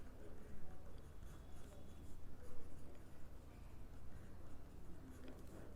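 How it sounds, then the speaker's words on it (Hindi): A pen scratches across paper in steady, close strokes while working out a class 12 determinants maths problem, soft and continuous with someone speaking over it. "बस मुझे लिखने दो।"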